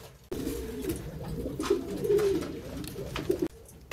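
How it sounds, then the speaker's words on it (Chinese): Pigeons coo softly and steadily in a coop where a pair of newly hatched chicks sits, a low continuous murmur of rolling calls lasting a few seconds, close by. "这是今年的第一对小鸽子"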